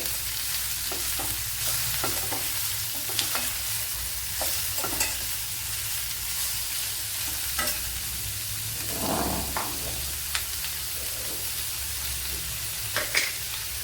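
Two medium onions sizzle and crackle steadily in hot oil while being stirred and fried for a vegetable chickpea curry, with the spoon scraping the pan in intermittent strokes; no one speaks.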